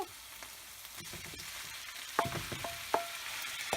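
Extra lean ground beef fries in a pan while being stirred, a soft steady sizzle broken by sharp clacks and scrapes of the utensil against the pan, close and with no voices.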